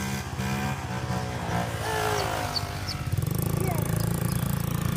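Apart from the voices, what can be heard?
vintage Honda Z50 minibike engine running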